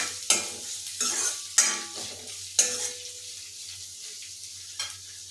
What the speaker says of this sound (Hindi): ये सारे प्याज डाल देती हूँ। अब इनको भी फ्राई कर लेते हैं